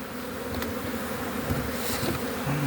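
Honey bees buzz steadily around hives at an apiary on a mild spring day, a dense continuous hum close by with individual insects passing near.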